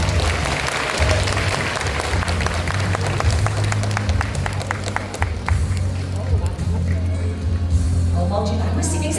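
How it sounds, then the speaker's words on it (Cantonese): At a graduation ceremony, an audience applauds students honoured for flight simulator competition awards. A crowd claps steadily for several seconds, with sharp clap strokes clustered in the middle, under a low background hum and murmuring voices. "咁係咪值得一啲熱烈嘅掌聲呢？"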